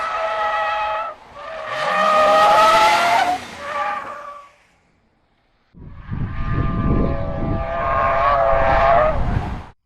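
A car oversteers as its rear slides out, tires skidding with loud, high, wavering squeals in two long bursts separated by a short silence, the second burst carrying a rough engine rumble underneath.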